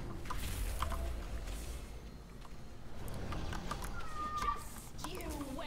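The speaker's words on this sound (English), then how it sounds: "I don't know if you can hear my cat." A house cat meows faintly several times indoors, the short rising cries sitting low behind steady background noise.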